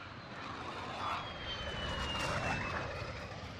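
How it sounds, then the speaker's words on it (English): A VTOL aircraft in a multiplayer video game, a steady airy engine roar holding at moderate loudness with a faint high whine drifting slowly downward, and no talk over it. "Oh, yo, they have a VTOL."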